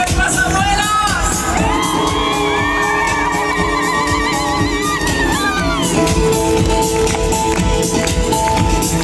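A live show audience shouts, whoops and cheers continuously, a dense crowd roar over amplified music with rising voices, loud and close throughout.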